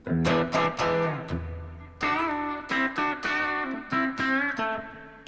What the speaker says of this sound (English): over here you got more grit. And it's definitely a fatter, you know, the humbucker, of course.